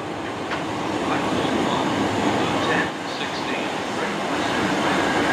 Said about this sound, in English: Arriving now is the 10:16 Great Western Railway service to Great Malvern.